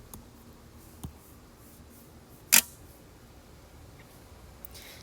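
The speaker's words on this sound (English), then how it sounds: "that was my bracelet hitting the music stand" A bracelet strikes a metal music stand once with a sharp, bright click. Fainter small taps come before and after it in a quiet room.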